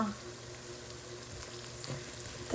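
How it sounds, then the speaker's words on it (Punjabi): Spices fry in a pan for cauliflower bhurji, giving a low, continuous sizzle close by with faint stirring scrapes and a brief louder clatter at the end. "ਆਪਾਂ ਮਸਾਲੇ ਐਡ ਕਰਾਂਗੇ ਆਪਣੇ ਜਿਹੜੇ ਤੁਹਾਨੂੰ ਦੱਸ ਦਿੱਤੇ ਨੇ ਆਲਰੇਡੀ ਇਹਨੂੰ ਲਵਾਂਗੇ ਪਕਾ"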